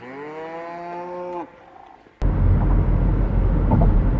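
Cattle by a roadside give several long, loud, drawn-out moos in close succession, then a short lull before a harsh burst of wind or passing traffic noise takes over.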